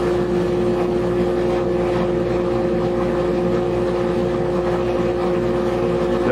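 Woodworking jointer running steadily in a guitar build shop, a loud continuous machine drone with a strong hum that holds unchanged throughout.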